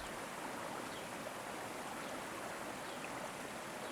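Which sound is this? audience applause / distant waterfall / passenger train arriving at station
distant waterfall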